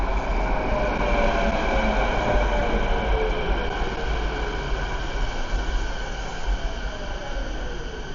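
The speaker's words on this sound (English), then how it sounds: "The train's coming in 1 minute, so that's perfect." A SkyTrain pulling into an elevated platform in Richmond, a steady loud rumble and rolling wheel noise with rising and falling tonal whine, continuous throughout with no talking.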